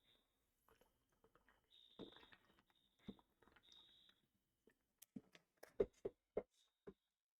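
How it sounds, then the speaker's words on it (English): A fire alarm going off in the background sounds as a series of faint high beeps early on, followed by scattered sharp knocks and clicks, with quiet talk here and there. "the fire alarm has just been going off constantly"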